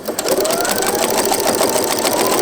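Sewing machine with a walking foot stitches through a double thickness of quilt wadding and a cushion, a loud, close, steady rapid mechanical chatter throughout.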